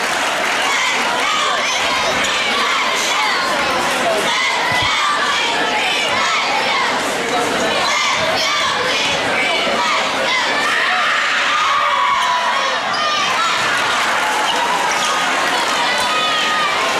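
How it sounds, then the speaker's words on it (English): A student cheer block at a high school boys basketball game yells and cheers loudly, a dense roar of young voices with shouts and scattered claps running continuously, and a commentator's speech is mixed in. "Guess the cheer block isn't phasing them anymore."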